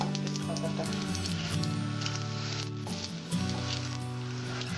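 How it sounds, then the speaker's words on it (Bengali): White cumin seeds frying in hot oil for a Bengali vegetable dal, a steady quiet sizzle that runs throughout beneath some tonal background sound. "দেবো আমি সাদা জিরে, সাদা জিরেটা যখন আমার লাল হয়ে আসবে তখন আমি দেবো তেজপাতাটা।"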